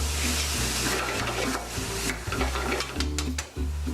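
Shrimp cooking in a pan with squeezed lemon juice for Louisiana BBQ shrimp, giving a steady close sizzle with stirring scrapes and a low hum running underneath.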